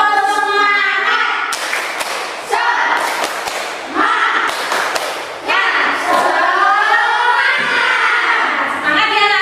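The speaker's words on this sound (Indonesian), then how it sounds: "Untuk menambah semangat kita melakukan tepuk semangat ya anak." A school class does the rhythmic Indonesian spirit clap, with patterned bursts of claps and slaps under a loud chanted, sing-song voice led by the teacher.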